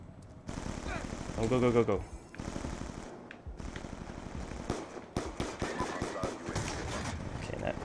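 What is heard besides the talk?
gunfire in video game Call of Duty: Black Ops 2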